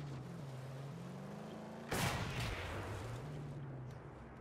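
A single sharp gunshot from the Mad Max video game cracks out mid-clip, a loud broadband blast with a short decaying tail, surrounded by a steady engine-like drone.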